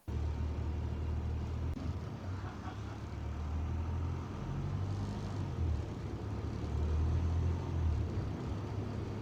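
A car engine's exhaust drones with a continuous deep bass rumble that swells and eases over several seconds, heard steady and alone.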